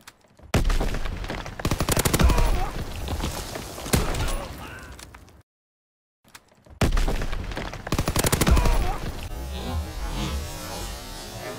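A PPSH submachine gun fires in Call of Duty, with loud, close bursts of rapid automatic shots and heavy booms, broken by a short silent gap before more bursts of gunfire.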